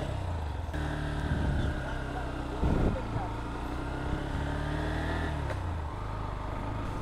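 A Honda Hornet 2.0 185cc motorcycle rides slowly along a rain-wet road, its engine a steady low hum with tonal bands and brief swells, carrying through the whole stretch with a rough burst of road or wind noise midway.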